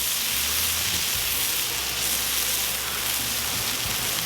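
A wagyu smash burger patty sizzles on a Cuisinart 360 griddle, giving a steady, dense hiss that runs without a break from start to end, close and fairly loud, with no voices.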